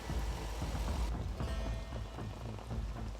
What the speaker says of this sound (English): it began to rain heavily